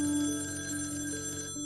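A telephone rings with a steady, sustained electronic bell tone that holds clear and close until it cuts off abruptly near the end, with no voices.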